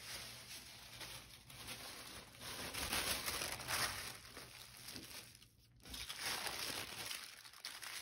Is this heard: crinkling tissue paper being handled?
yes